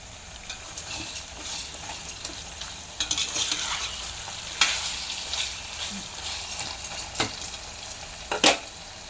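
Crushed garlic fries in a pan of oil for a bitter gourd pickle, giving a close, continuous sizzle broken by sharp stirring clicks and scrapes, with no voices.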